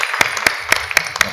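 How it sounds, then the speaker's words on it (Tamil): Audience applause at a bhajan singing event in West Mambalam: a short burst of brisk, fairly close clapping with sharp individual claps standing out over the steady patter. "ஒரு பலத்தை கைத்தட்டோட வர வைப்போம்."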